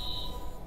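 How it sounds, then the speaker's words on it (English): Security alarm tripped in the Watch Dogs video game, a steady high electronic tone held for the whole short moment, moderately loud over low background rumble, with no talking. "Alarm's been tripped."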